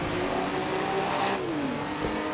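Formula One race cars of the 1956 Monaco Grand Prix accelerating away on the street circuit, a steady engine drone with a rising and falling pitch as a car sweeps past, moderately loud with no talk.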